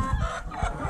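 Chickens cluck and stir on a Jamaican farm with about 75 birds, a dense, close, continuous mix of fowl sounds with no talk.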